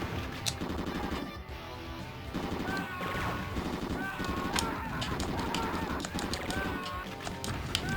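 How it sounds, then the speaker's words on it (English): Rapid gunfire and explosive blasts from a rocket launcher in the side-scrolling run-and-gun game Commando Steel Disaster, dense and continuous over game music with short honking tones. "Rocket launcher."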